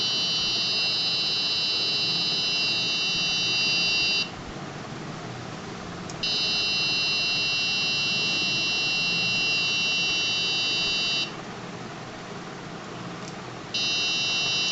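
The buzzer of an Arduino alcohol detector with an MQ-3 sensor sounds a loud, continuous electronic tone in long stretches of several seconds. Short pauses separate them, over a steady background hiss, with no voices.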